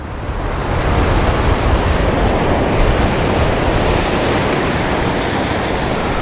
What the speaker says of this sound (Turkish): Resmen okyanusun ortasına kadar geldim.